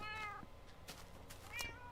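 Minecraft cats meow repeatedly in quick, high, wavering calls over a steady game background hum, with no one talking.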